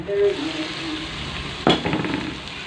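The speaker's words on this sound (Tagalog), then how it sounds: "Pagkatapos ng gisa niya yung bawang, sibuyas at kamatis, ilagyan na natin itong hipon." Shrimp hits a pan of sautéed garlic, onion and tomato with a sharp burst of sizzling, followed by a steady frying hiss and light stirring scrapes, up close with no talking.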